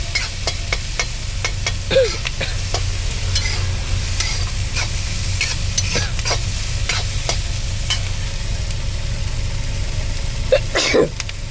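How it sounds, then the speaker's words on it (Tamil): Onions softening in a pan while being sautéed for beetroot poriyal, a constant close sizzle broken by regular scraping strokes and sharp spatula clicks against the pan. "ஒரு 5 நிமிஷம் வேகட்டும், வதங்கட்டும் வெங்காயம் சரிங்களா"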